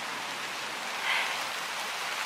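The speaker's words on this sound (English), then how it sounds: "It's just been horrible, rainy weather" Steady rain falls outdoors in wet weather, a soft even wash of drops on surfaces with a slight swell partway through, no voices.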